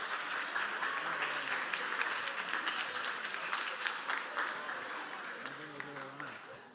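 Audience applause at a school anniversary celebration, steady rapid clapping from a room full of people that carries on evenly throughout, with a voice briefly coming through near the end.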